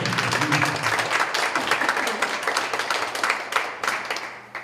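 Applause from a prayer-meeting audience for a guest pastor, dense steady clapping throughout with a low hum beneath and faint voices mixed in.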